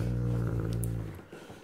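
Great Dane growling over a blanket, a low, rumbling growl held steady for about a second before tapering off, close and fairly quiet.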